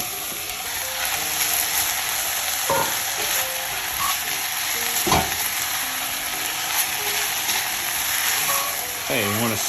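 Broccoli rabe with Parma ham fries in a Staub oval cocotte, a constant bright sizzle broken by occasional clacks and scrapes of a stirring utensil, close up, with a faint voice now and then.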